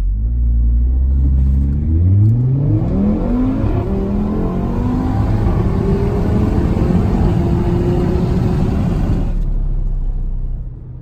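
An Audi RS3 launches from a standstill, its engine climbing through several gears with loud, rising revs and a brief shift between each, heard from inside.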